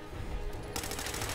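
A rapid burst of automatic gunfire from combat in the video game Fallout 4 erupts suddenly partway through. The shots are loud, close and sharply repeated over a low background rumble, with no talking.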